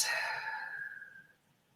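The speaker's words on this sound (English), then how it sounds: "and a nice big breath out." A single long, controlled breath out during a Pilates breathing exercise, close and soft, fading over about a second and a half.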